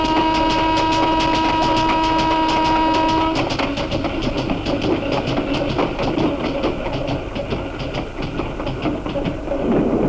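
A train at night opens with a sustained horn tone, then settles into a loud, continuous rumble of wheels on rails with rhythmic clicking from the carriage.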